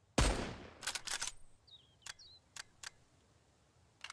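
A hunting rifle fires in the video game Mist Survival: one loud, sharp crack that rings down, followed by a few quieter clicks and thumps and a couple of faint chirps against a quiet background.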